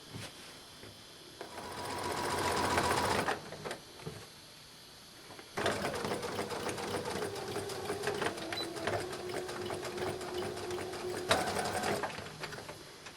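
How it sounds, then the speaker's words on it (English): Sewing machine stitching apron fabric forward and backward to lock the seam, with close, rapid mechanical needle chatter in several bursts separated by short pauses, the longest run steady and continuous. "I'm going to stitch forward and backward to lock that stitch"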